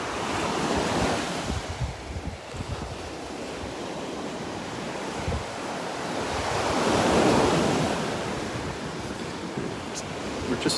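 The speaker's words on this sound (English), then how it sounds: "About a mile of beach here at Delnor-Wiggins, give or take where the tide is at." Ocean surf rolls onto the beach at Delnor-Wiggins near high tide as a continuous wash of breaking waves, one swell building louder in the middle, with wind buffeting the microphone throughout.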